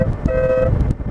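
Stebel air horn mounted on a car sounding one short, loud, brassy blast in windy outdoor conditions.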